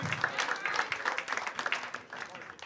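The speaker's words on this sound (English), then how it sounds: "Clap it up for your next contestant, Frank, everybody." A studio audience at a stoner-themed comedy game show claps steadily for an incoming contestant, dense and lively near clapping that holds for a few seconds before tapering slightly.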